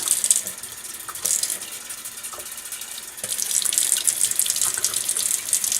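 Tap water runs into a container to activate wine yeast, a steady close hiss and splash that grows slightly louder partway through.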